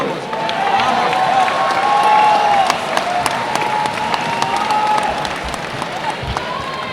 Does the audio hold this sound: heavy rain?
no